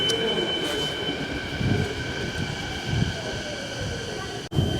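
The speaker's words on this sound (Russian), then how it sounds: "Это поезд метро." A metro subway train at a station platform, giving a steady rolling rumble with sustained whining tones that holds throughout and breaks briefly near the end.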